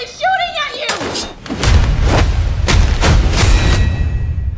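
Gunshots in a film scene, a string of sharp, heavy bangs over a loud rumbling bed, following a brief tonal sound at the start.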